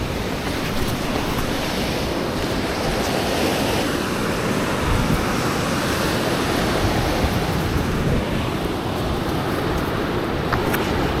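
Large surf at Ocean Beach crashing and rolling onto the shore in a loud, continuous wash of noise, buffeted by wind against the microphone.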